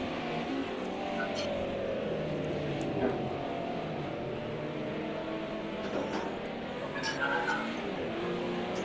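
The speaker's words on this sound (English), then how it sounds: "See Marius really sliding that car coming out of turn number 2" A sim racing car slides out of a turn during an online race, engine droning and tyres scrubbing steadily over several seconds, with race commentary running underneath.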